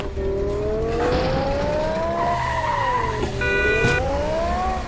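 A modified Toyota Fortuner SUV in the Indian Theft Auto simulator game races with a whining engine tone that climbs and dips, then gives a loud tire squeal and skid near the end, continuous and close.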